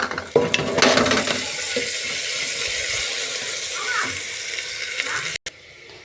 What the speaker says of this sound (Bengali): এর মধ্যে আমি আদা রসুন কুচিটা দিয়ে দেবো।